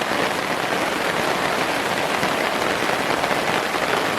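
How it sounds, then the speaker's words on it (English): Heavy rain hammering down in the woods during a thunderstorm on a canoe camping trip, a dense, continuous hiss of drops striking leaves and ground, steady and close with no voices. "Just wanted to let everybody see the rain coming down."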